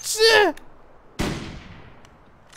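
A single loud gunshot cracks out at a bear in The Long Dark, its sharp report decaying into a long tail, preceded by a brief squeal and followed by faint clicks.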